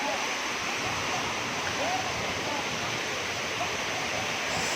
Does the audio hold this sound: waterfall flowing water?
yes